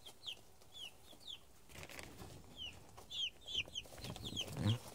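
Six Cornish Rock chicks in a brooder box give repeated high, faint peeps through a soft, rustling background, with a few louder scuffs near the end.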